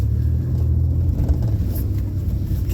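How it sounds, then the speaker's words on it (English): The 4.3L engine of a 2000 Oldsmobile Bravada is held near redline and gives a loud, deep, sustained rumble. The drone stays steady and close for the whole stretch. "Maybe we'll just sit back here and redline it on the floor then."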